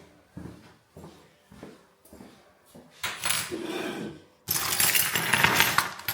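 Metal keys are dropped one at a time onto a pile of other keys, giving a series of close, sharp jingling clinks, softer at first and louder and denser toward the end.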